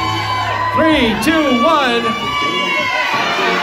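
Wedding guests at a garter toss in a mansion hall cheer and whoop loudly right after a spoken three-two-one countdown, the crowd's excited shouts rising and carrying through to the end over ongoing talk.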